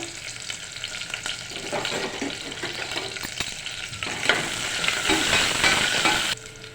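Curry leaves frying in hot oil on a gas stove, giving a steady crackling sizzle with stirring scrapes that swells louder near the end before cutting off abruptly.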